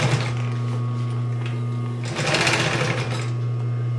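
A sewing machine runs continuously, stitching a clutch wallet, with a steady close motor hum and rapid needle chatter that briefly speeds up midway, no talk.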